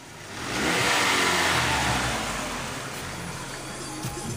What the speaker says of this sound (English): So you heard her little four-cylinder engine.